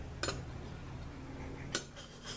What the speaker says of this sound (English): I'm just going to use a knife to just mix it a little bit.